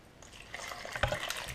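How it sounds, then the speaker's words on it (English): Water is poured slowly onto ice for soap making, a quiet splashing trickle that swells toward the end with a few sharper drips and clinks, no voices present. "Now I'm going to add the water."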